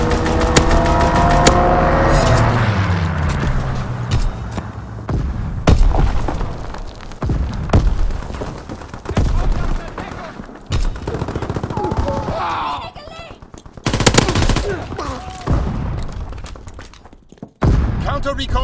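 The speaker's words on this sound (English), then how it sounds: "Fighter pilot inbound, strafing the target." In Call of Duty WWII, a fighter plane strafes a target with machine guns: repeated bursts of gunfire and heavy booms crash through loud battlefield noise, with an engine roar at the start and a game voice speaking over parts of it.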